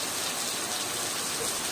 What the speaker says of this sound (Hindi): रिमझिम रिमझिम बारिश हो रहा है, कभी तेज कभी स्लो